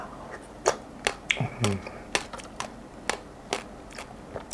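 Close, crisp crunching of passion fruit seeds being chewed, a series of sharp irregular cracks spaced about half a second apart, with a brief murmured voice partway through.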